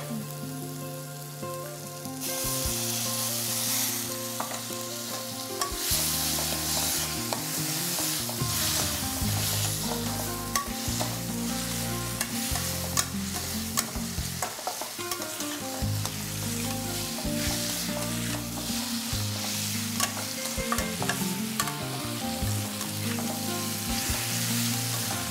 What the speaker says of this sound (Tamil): இந்த மசாலாவிலே வந்துட்டு இந்த மஷ்ரூம் நல்லா ரோஸ்ட் ஆகட்டும்.